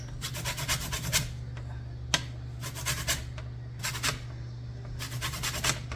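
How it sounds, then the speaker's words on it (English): Rhythmic rasping strokes of a whole lemon's peel being grated for zest while making Creole turtle soup, several bursts of scraping close by with short pauses between them, over a steady low kitchen hum. "I am going to put in some grated lemon zest. Go ahead and use the grate of a whole lemon."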